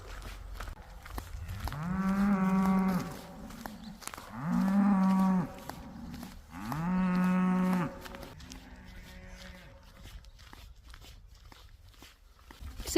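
Cattle in the Scottish countryside give three long, loud mooing calls in slow succession, then a fainter fourth, with quiet outdoor ambience between them and no talk.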